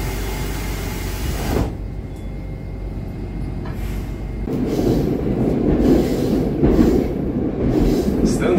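A Moscow metro train running through a tunnel, a continuous loud rumble and rattle of wheels on rails that swells louder partway through, with faint squeals and no talking.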